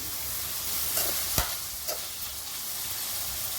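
Brinjal pieces and tomato pieces from three medium tomatoes fry in a pan with a close, even sizzle, a sharp spatter burst near the middle and a couple of softer stirring scrapes.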